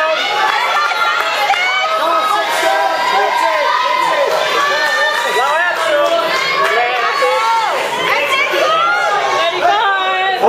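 An audience at a bodybuilding pose-down cheers, whoops and shouts continuously, a loud, packed crowd roar with voices calling out throughout.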